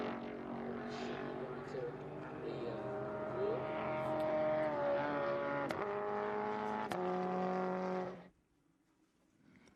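A 1966 Toyota Stout race truck roars past at speed on a racetrack, its engine note loud and steady with rising and falling pitch, then dropping away abruptly near the end, with a commentator talking over it.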